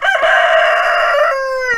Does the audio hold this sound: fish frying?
no